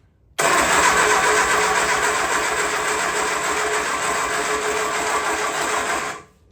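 A freshly rebuilt Triumph Spitfire engine cranks hard and loud, a steady rapid churning that runs unbroken for about six seconds before cutting off, with no voices over it.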